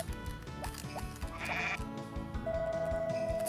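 Sheep bleat in the Harvest Moon farming video game, heard as repeated synthesized calls over steady background game music with chiming tones.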